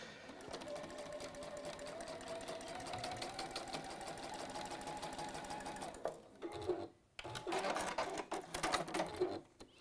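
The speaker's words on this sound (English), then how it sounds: "Just have to remember which one seam I'm sewing down" A sewing machine runs a long steady stitching stretch along a quilt block seam, then stops briefly and restarts in shorter bursts, close and fairly quiet.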